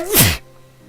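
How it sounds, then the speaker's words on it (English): One sharp close sneeze bursts out loud and breathy, then cuts off into near silence. "Hang on, I gotta sneeze."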